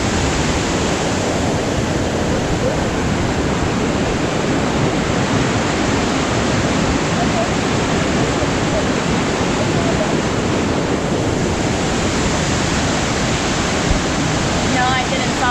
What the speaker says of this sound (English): the amount of water that's coming through here